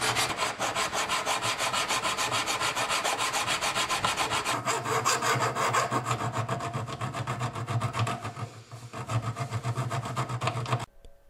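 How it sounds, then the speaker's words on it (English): A steel file is drawn steadily along the bevel of a steel knife blank, producing a continuous rhythmic rasping scrape, close and loud, running nearly unbroken before stopping abruptly at the end. "When cutting the bevels of the knife, I hold the file at about a 10-degree angle and draw it from the choil down to the tip"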